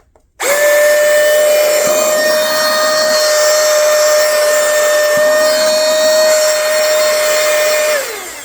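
A portable car jump starter with a built-in vacuum cleaner switches on and runs with a loud, steady motor whine and airflow hiss, holding constant for about eight seconds before spinning down.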